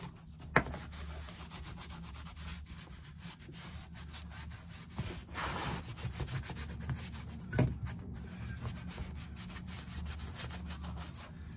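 A cloth rubs conditioner onto a leather aviator bag with soft, close scrubbing strokes, a steady low swishing broken by a few sharper scuffs.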